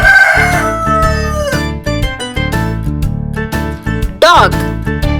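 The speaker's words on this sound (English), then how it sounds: "rooster," A cartoon rooster crows over cheerful children's music, with a rising cock-a-doodle-doo near the start and another short crow toward the end, both loud and up front.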